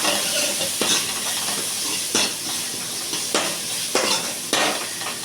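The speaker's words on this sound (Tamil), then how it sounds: "போட்டு நல்லா கிண்டிக்கலாம்." A steady sizzle of crushed garlic and spices frying in a pan for pepper rasam, while a spoon scrapes and stirs at intervals, producing sharp clatters every second or so.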